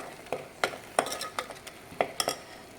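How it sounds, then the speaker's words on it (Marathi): Egg curry masala roasting in hot oil in a pan, with a spoon stirring and scraping in quick, uneven clinks over a soft, low sizzle, close and clear. "आपला मसाला छान भाजला गेला आता छान तेल सुटते मसाल्याला"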